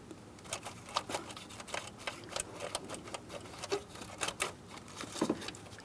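Fine sandpaper wrapped around a bolt scrubs out a crankshaft position sensor port on a 2008-2016 Chrysler Town & Country, giving quiet, irregular scratchy rasps in short bursts, close by.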